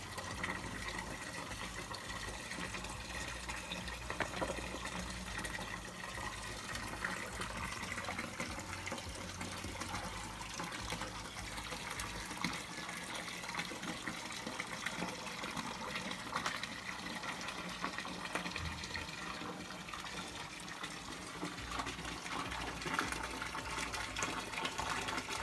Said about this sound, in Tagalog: Okay, the water is already reached at the surface skimmer.